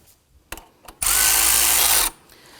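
A power tool tightens the belt tensioner on a 2005-2009 Subaru Legacy 2.5L H4, giving a loud, close whir that lasts about a second after a couple of sharp knocks, then stops.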